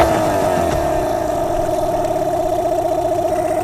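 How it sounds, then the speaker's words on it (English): A dinghy's outboard engine runs loud and close, a steady buzzing drone that holds high briefly before settling back to an even idle, with no voices. "Let's see what happens if we rev it up and let it come back down to idle."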